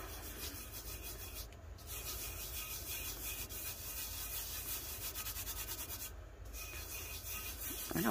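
A vinyl decal being burnished onto a glitter tumbler makes a steady, close scraping rub throughout, with brief pauses in the stroking and no talking.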